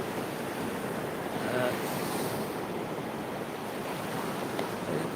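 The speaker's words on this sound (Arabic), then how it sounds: "هذا البحر، هذا البحر" Sea waves washing against the shore, a steady broadband surge with wind buffeting the microphone, continuous and fairly loud throughout with no clear breaks.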